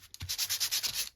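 Sanding a rough edge on a handmade paper napkin envelope made with baking paper: about nine quick, soft, evenly spaced rubbing strokes, close up and fairly quiet, with no talking.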